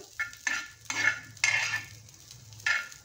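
Plain kolam rice roasts in ghee over a low flame, with five or six distinct scraping stirs. Each stroke is a short gritty rasp, close and clear, separated by brief quiet gaps.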